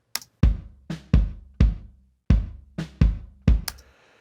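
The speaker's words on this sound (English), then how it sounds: "Because of the compression action, it actually lengthens the bass drum a little bit" Compressed bass drum track playing about eight hits in a steady pattern, each boomy thump ringing a little longer and fuller, with brief clicky transients at the start and end; close, no talking.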